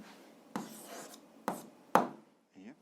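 Pen strokes writing down an answer, three short distinct scratches spaced about a second apart, close and quiet, with a faint soft sound at the end.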